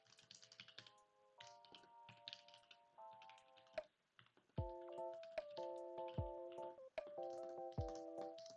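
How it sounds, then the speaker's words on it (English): Rapid, close keyboard clacking while building a programming application, irregular bursts of keystrokes over a steady electronic melody with soft tonal notes and occasional low thuds. "let's do the typing."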